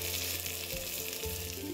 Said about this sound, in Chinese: 鲜嫩鸡腿肉慢慢的放满整个锅，把白嫩小鲜肉煎到古铜金黄色